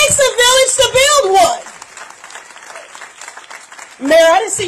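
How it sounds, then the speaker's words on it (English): Audience applause at an outdoor ribbon-cutting ceremony, a moderate patter of many hands between stretches of a nearby voice speaking at the start and end. "Let's clap for everybody."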